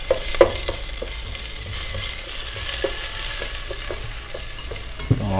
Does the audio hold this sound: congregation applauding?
no